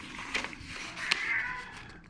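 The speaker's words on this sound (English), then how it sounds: "I do have a little whining cats right here." Two or three cats whine and meow close by, short overlapping cries, one longer plaintive call stretching out.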